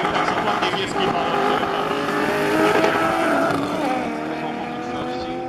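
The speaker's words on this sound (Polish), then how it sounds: "Można przejechać się na prawym fotelu driftowozu, tego typu jak to BMW, które jedzie tu na lewym torze." A BMW drift car, likely an M5, drives on the left lane of a quarter-mile drag strip, its engine a sustained loud roar with shifting pitch throughout, and a crowd and voices are mixed in underneath.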